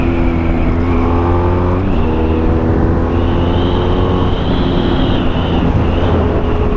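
A BMW F800R motorcycle engine accelerates hard in third gear past 4000 rpm, its close, steady drone climbing and dipping in pitch through the run with no talk.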